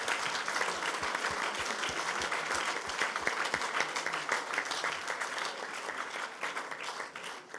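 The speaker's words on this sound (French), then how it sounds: "Vous pouvez les applaudir, c'est largement mérité." An audience applauds candidates at an engineering inventor award ceremony: sustained, full clapping at a steady loud level, with a few sharper individual claps standing out, fading slightly at the end.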